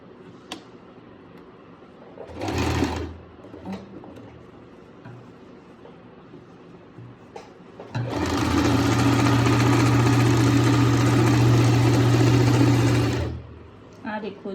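A sewing machine stitches a seam on salwar fabric right alongside buckram stiffening, running in one steady, loud burst of several seconds after a few brief mechanical clicks and short whirs.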